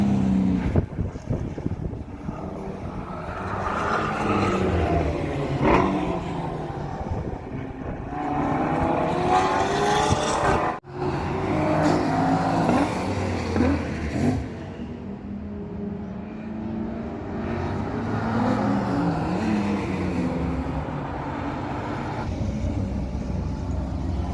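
Race cars at speed on the Laguna Seca circuit, an Acura RSX among them, heard as a continuous roar of engines with rising and falling pitch and wind buffeting, one sharp dropout near the middle, no voices.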